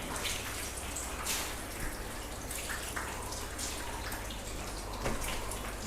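Water splashing and dripping steadily across a coated car's paintwork and edge sections during a hand wash, a continuous wet hiss with scattered drips and small splashes, close and moderately loud, with no talking.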